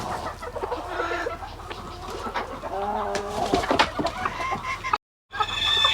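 Chickens cluck and call repeatedly at close range in a backyard coop with mulch-and-soil flooring, a busy overlapping flock chorus with occasional sharper squawks, broken by a brief drop to silence near the end.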